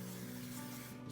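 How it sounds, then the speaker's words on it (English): Cooking spray hisses steadily from an aerosol can into a cake pan for a short continuous burst, close and fairly quiet, with a low steady hum beneath. "we're just going to spray a little cooking spray in the pan"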